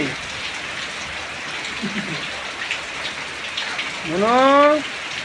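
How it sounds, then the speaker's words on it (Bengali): Heavy rain pours in a constant broadband roar, near and steady, with a brief voice rising over it near the end. "প্রচুর বৃষ্টি।"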